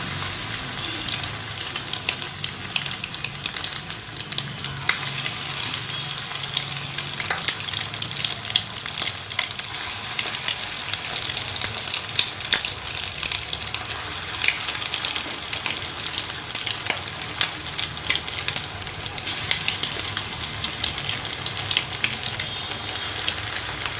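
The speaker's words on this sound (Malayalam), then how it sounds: "ഇനി നമുക്കിതിലേക്ക് എഗ് പക്കോടയുടെ കൂട്ടിട്ട് കൊടുക്കാം" Egg pakoda batter frying in hot oil, giving a steady, loud broadband hiss and crackle that runs without a break for the whole stretch, with no voices over it.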